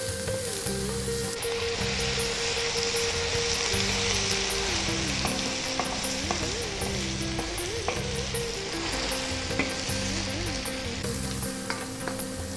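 Pepper chicken sizzles loudly in a pan over high heat while it is stirred constantly, making a steady, close crackle with scraping movements, and music plays underneath.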